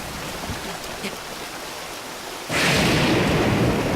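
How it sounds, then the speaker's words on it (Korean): A thunderstorm in The Legend of Zelda: Breath of the Wild, with steady rain hiss underneath and a broad, loud rumble of thunder rolling in partway through and carrying on to the end. "와 진짜 미쳤다 오늘 번개."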